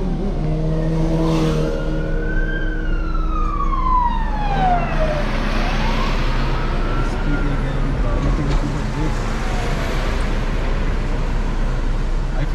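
Police and ambulance sirens wail on the road, rising and falling loudly with sweeping tones close by over steady traffic and car engine noise.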